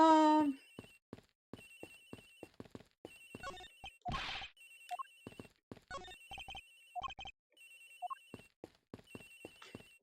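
Telephone ringtone chiming in repeated electronic bursts inside the video game Ace Attorney Investigations: Miles Edgeworth, with short game sound effects and a brief noise burst in between.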